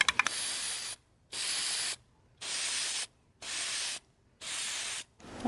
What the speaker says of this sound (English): I'm going to put a clear coat on these roofs. I'm using this spray polyurethane.